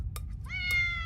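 A single drawn-out cat meow, rising then holding steady, close and clear over a low background rumble.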